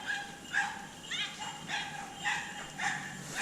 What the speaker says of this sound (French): Cette fois, c'est bien mené par un petit chien.